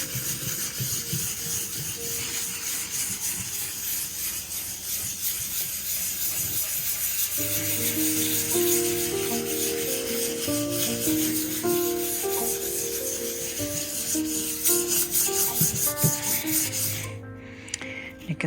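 Fine 1,000 grit sandpaper rubs over a waxed wooden table finish in a steady, close scratching hiss, with music playing underneath in the second half.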